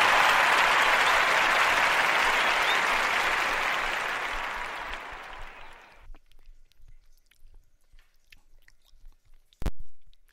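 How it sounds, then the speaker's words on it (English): A church congregation gives a clap offering: dense applause rings loud for about five seconds, then fades out into near silence broken by small scattered noises and one brief sharp knock near the end. "Let's get a Lord a clap offering on that note"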